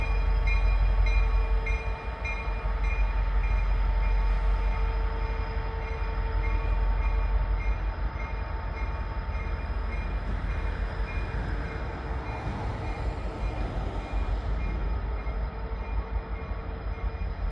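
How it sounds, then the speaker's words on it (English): A fast BNSF freight train runs through town and the yard without stopping, a continuous heavy rumble of cars with steady tonal hum and clatter, close and loud throughout, no talk. "This train's booking. I don't think he's going to stop. Coming right through town. Right through the yard."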